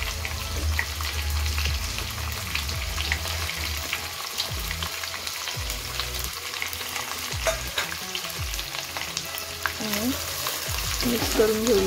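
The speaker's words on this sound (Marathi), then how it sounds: "मी इथे 2 मोठे कांदे सुद्धा चिरून घेतलेत उभे, ते सुद्धा मी यात टाकून घेते." Sliced onions going into hot oil with cumin seeds for a village-style jackfruit curry, a steady dense sizzle and crackle with occasional stirring, close and continuous throughout.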